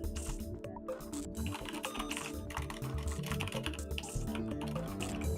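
Rapid keyboard typing in the Steins;Gate video game as a mail is typed out, a steady stream of clicks layered over background music throughout.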